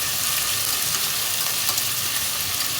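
Steady, close sizzle of onions frying in oil with cinnamon and cloves for a Tamil country chicken curry, a constant crackling hiss with no voices.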